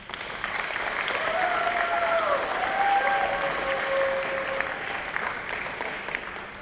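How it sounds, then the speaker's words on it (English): A sustained round of applause fills a room at a school DARE program graduation, with steady clapping and a few voices calling out over it. "Y'all will give him another round of applause."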